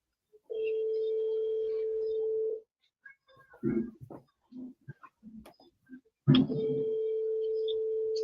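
A telephone ringback tone on an outgoing call sounds twice as long steady electronic tones, with a brief muffled voice and clicks between them.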